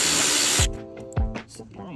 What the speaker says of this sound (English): So we're gonna drill the holes for. Gotta use a step drill.